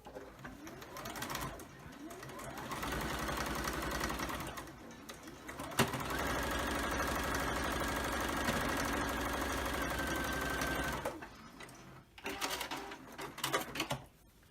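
A sewing machine stitches quilt pieces together along a quarter-inch seam, running in steady close-up bursts with short pauses between runs.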